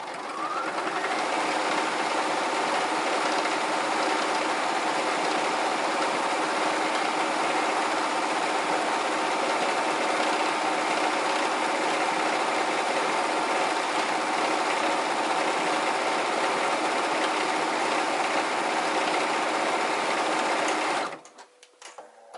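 A sewing machine runs a top stitch along a pressed seam, its motor whirring loud and continuous for about twenty seconds before stopping abruptly.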